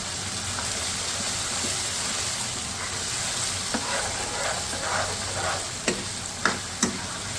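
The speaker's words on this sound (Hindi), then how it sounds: "पहले हम इसकी भुनाई करेंगे" A tomato, onion and spice masala for chickpea curry fries in a pan with a constant loud sizzle, while occasional spatula scrapes and a few sharp clacks grow more frequent toward the end.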